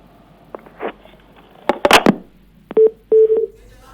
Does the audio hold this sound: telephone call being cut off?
yes